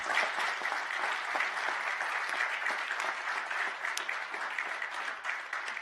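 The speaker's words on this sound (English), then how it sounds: "please give a big round of applause to these champs here today" Sustained applause from a crowd at a Clark County, Nevada public event, many hands clapping at once in a dense, steady roar that continues throughout.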